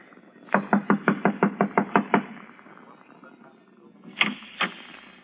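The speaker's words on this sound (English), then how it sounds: "I'll knock on the door and try it again" Knocking on a wooden door in an old radio drama: a quick run of about eight sharp raps, a pause, then two more firm knocks, close and alone.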